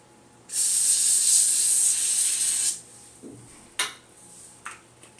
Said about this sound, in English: Spray my track.